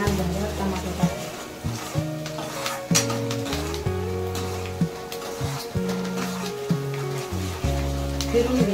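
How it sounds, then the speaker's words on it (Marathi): Onion stirred and fried in oil in a pan, a soft sizzle punctuated by repeated spatula scrapes and knocks, heard beneath someone talking and a steady background melody. "फिरून घेते या कांद्याला"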